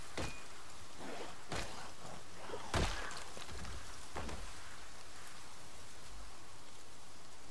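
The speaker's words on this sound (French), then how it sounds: "Normalement, il pleut, ça doit diminuer." Steady rain hissing throughout in the video game Project Zomboid, with a few soft thuds and knocks scattered over it, fairly quiet and with no talking.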